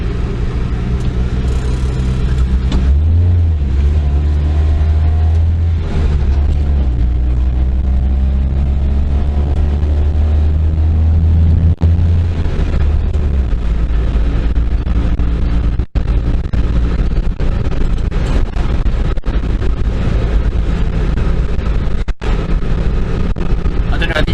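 Honda Acty kei truck engine runs while driving, a continuous loud drone with shifting pitch as it pulls and changes gear, heard from inside the cab over road rumble.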